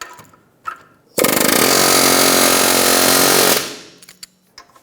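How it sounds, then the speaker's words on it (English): Air hammer with a chisel bit pounding the wheel hub of a 2014-2019 Toyota Highlander to break corrosion on the bearing, as one loud, continuous rapid hammering burst of about two and a half seconds between quieter clanks. "Using an air hammer and a chisel bit, we're going to go right on the side of this hub, right under the lobe"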